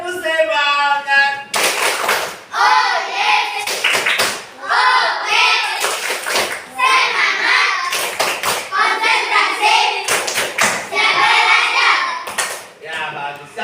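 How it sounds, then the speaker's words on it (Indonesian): A school class performing the tepuk semangat spirit clap, children clapping together in sharp rhythmic bursts with short pauses between phrases, chanting along with the claps. "Tepuk semangat"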